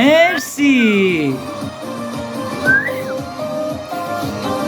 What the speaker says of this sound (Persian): سوت بزن